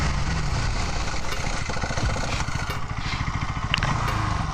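A Bajaj Pulsar NS 200 BS6 motorcycle runs up toward 60 during a hard-braking test, its engine droning with a rapid pulsing beat at close range, steady in volume and free of speech.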